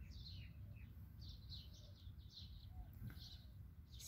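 Birds chirp in a garden in short, bright bursts, several quick tweets repeating over a low, steady background rumble, faint and some distance off.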